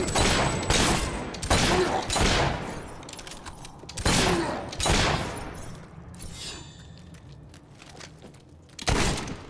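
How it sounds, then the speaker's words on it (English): Gunfire in Fable 3 comes as a handful of sharp, loud shots spaced a second or two apart, each a crisp burst with a short decaying tail. "I could shoot them all day"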